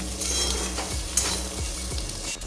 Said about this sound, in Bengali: চিংড়ি মাছগুলো এখানে ভাজা হয়ে গেছে